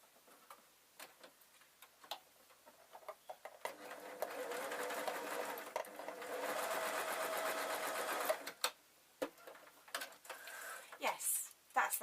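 Freshly oiled sewing machine stitching a fabric bias binding strip, a rapid mechanical whirr with ticking needle strokes running for several seconds between quieter clicks and handling noises nearby.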